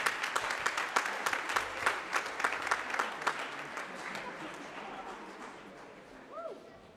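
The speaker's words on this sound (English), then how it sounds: "Let's clap for him as he mounts the stage." A church congregation at a university hymns-night service claps in a fairly even rhythm as a singer comes up to the stage. The clapping is moderate and roomy, then thins out and fades as a voice begins near the end.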